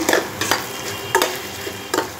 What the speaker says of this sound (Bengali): হলুদ নুন মাখা ঢেঁড়সটা আমি এখানে দিয়ে দিলাম এবার আস্তে আস্তে ভাজা করছি